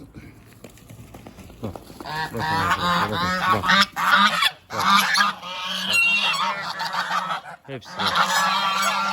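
Loud, harsh honking from several male geese fighting close by, overlapping calls rising and falling continuously with brief pauses, agitated and clamorous.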